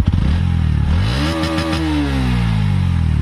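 A Bajaj Pulsar NS 125 motorcycle engine revs up from idle, the pitch climbing and holding high, loud and close, with a rough rumbling exhaust throughout.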